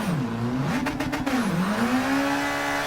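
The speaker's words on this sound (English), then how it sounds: "can this thing do four-wheel donuts? Oh yes, it can." A car spinning four-wheel donuts in Gran Turismo 7, its engine revving and bending up and down in pitch over a continuous drone, with a brief burst of tire squeal midway, loud and close.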